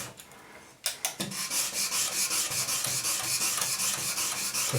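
Hand sanding of a wooden surface by the stroke, a close, rhythmic rasping scrape that starts after a brief pause and repeats in quick, even back-and-forth passes.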